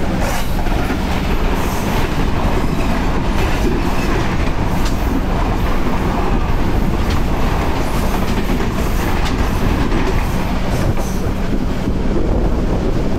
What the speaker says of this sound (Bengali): এটা চিলাহাটি এক্সপ্রেস